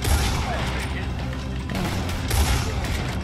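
Gunfire in the Red Dead Redemption 2 video game, a dense barrage of overlapping booming shots and crashes that fills the whole stretch, with voices speaking under the din.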